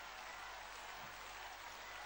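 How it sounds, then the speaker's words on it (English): An audience claps steadily at a figure skating rink after a free skate performance at a 2015 competition. The applause is a dense, even wash heard at a distance, with no individual voices standing out. "Tatiana Tarasova leads the applause"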